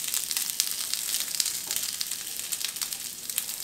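Potatoes fry in a non-stick pan over low heat for a ground beef and potato gratin, giving a steady, dense crackling sizzle heard up close without any talk.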